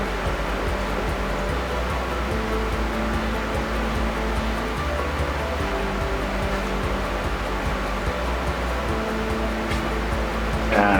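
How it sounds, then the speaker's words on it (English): Spray gun applying finish to a wooden drum hoop hung vertically in a workshop: a continuous, loud, steady hiss of spray lasting throughout, with no talking. "I wanted you to see me spray this hoop really quick, see how it goes."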